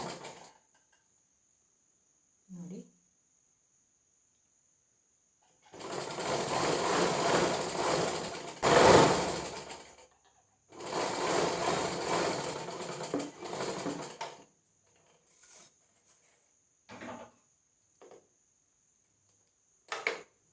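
An electric sewing machine stitches a simple cloth carry bag, running in two long steady whirring bursts of several seconds each, with short clicks and handling noises between and after them.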